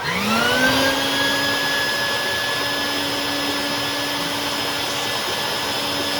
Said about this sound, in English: we just use like a regular old shop vac for this